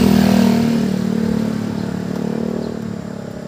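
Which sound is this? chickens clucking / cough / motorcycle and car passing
motorcycle and car passing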